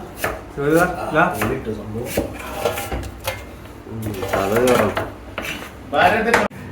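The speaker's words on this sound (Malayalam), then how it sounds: "ഉള്ളി കട്ട് ചെയ്തുകൊണ്ടിരിക്കുകയാണ്" Knife chopping onions on a board in a room kitchen while cooking Wayanad-style fish curry, a series of quick close knocks in uneven bursts, with someone talking over it.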